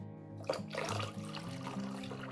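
Warm water runs steadily into a pot holding jars, set up as a water bath for preserving fire-roasted eggplant; a continuous close pour and splash with no voices.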